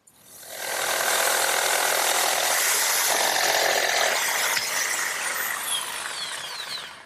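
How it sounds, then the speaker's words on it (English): A jigsaw fitted with a fresh blade cuts a notch in a wooden sandbox leg, a rapid rattling buzz that starts up and runs loud and steady for several seconds. "Now my jigsaw, set up with a nice fresh blade, does a real good job cutting out that notch."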